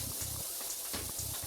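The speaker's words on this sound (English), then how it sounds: "a pressure washer more sounds like this" Steady, forceful hissing spray from a pressure washer, loud and continuous with a low mechanical hum pulsing underneath.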